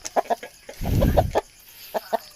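Native chickens cluck in short, close bursts, with a denser flurry of clucking and fluttering in the middle and scattered single clucks around it.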